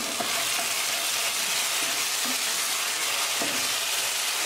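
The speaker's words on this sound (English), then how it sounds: "With the cover lid cooking for 3 minutes, I'm going to open the lid, mix it." Tomatoes cooking in a pan sizzle steadily and loudly while a spoon mixes them, leaving a few distinct scraping strokes over the constant frying hiss.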